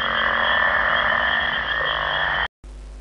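Frogs in a swamp croak in a dense, continuous chorus that stays loud and steady for about two and a half seconds, then breaks off.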